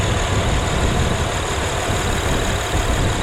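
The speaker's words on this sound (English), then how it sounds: "I am working on a running engine here" A car engine idles steadily and close by during a DIY intake valve carbon cleaning, a continuous low rumble with a faint high whine above it, no talking.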